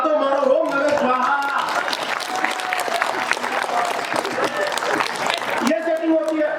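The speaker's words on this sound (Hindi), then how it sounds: "अगली पंक्ति से पिछली पंक्ति तक तालियां उठनी चाहिए" Audience at a kavi sammelan poetry gathering in Gogunda breaks into loud, sustained applause that fills the hall for several seconds, then cuts off abruptly.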